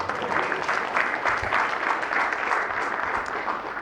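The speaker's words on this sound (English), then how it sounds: "you need a big round of applause, please" A conference crowd applauding steadily, a dense wash of clapping that continues evenly throughout.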